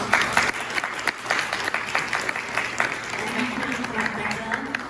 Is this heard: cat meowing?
no